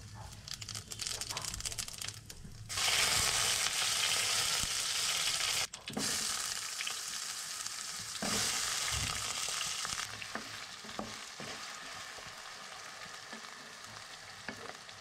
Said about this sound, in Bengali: মা হচ্ছে ফোড়ন দিচ্ছে